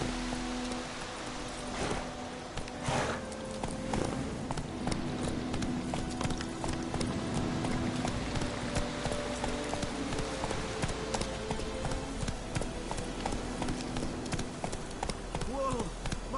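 Roach, the horse in The Witcher video game, clip-clops along in a steady rhythm of hoofbeats, close and continuous beneath game music and ambient rustle, with spoken dialogue layered over it.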